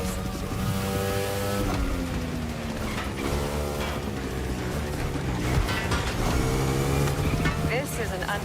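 A Ducati Panigale motorcycle ridden through an urban setting in The Crew Motorfest racing game, its engine revving and shifting in rising and falling whines, steady and loud beneath a talking voice.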